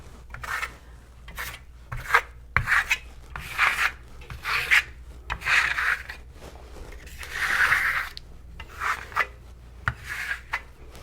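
A stainless steel trowel spreads Shimmer Stone plaster across a wall in separate scraping sweeps, each a soft rasping stroke, close and fairly quiet, with brief gaps between passes and no talking.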